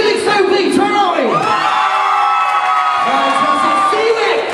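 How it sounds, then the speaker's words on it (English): A talent-finals audience cheers, whoops and yells loudly, a dense wall of crowd noise with shrill shouts rising and falling over the whole stretch. "I want to hear you cheer. I want to hear you scream, clap, and go wild when we get to your part"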